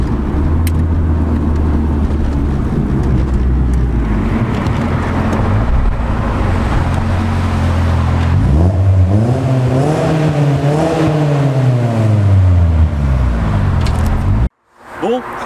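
A Nissan S13 revs hard and bounces off the rev limiter while stopped under a bridge, with a loud, near engine climbing and falling in pitch across repeated sweeps, then cutting off abruptly near the end.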